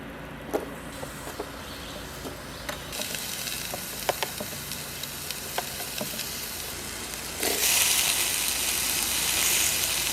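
Food sizzles steadily in a pan on a camp stove outdoors, a continuous frying hiss with scattered pops and light utensil clicks, growing louder and brighter near the end.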